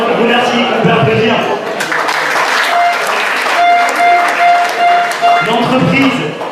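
A crowd at a football tournament event applauds sponsors, clapping rising and falling under a speaker talking in French over a loudspeaker.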